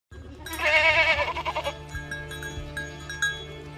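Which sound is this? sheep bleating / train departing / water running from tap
sheep bleating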